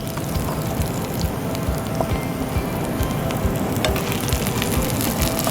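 Carrots and onions frying in a pan for a Creole dish, a loud dense continuous sizzle with soft crackling and occasional stirring scrapes throughout, no talking.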